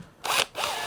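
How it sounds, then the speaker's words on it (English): A power drill fitted with a tapered dog hole reamer bit whirs in two short bursts, cleaning glue residue from a workbench dog hole, close and moderately loud. "pop it in my drill"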